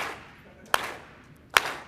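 An audience claps along at a slow, steady pace, two crisp claps about a second apart, moderately close, with faint room murmur between them.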